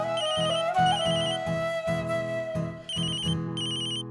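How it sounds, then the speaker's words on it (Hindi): A phone ringtone for an incoming office call plays steadily and loudly, a repeating melodic electronic pattern with bright chiming notes filling the whole stretch, with no talking over it. "ऑफिस से फोन है, मुझे उठाना पड़ेगा।"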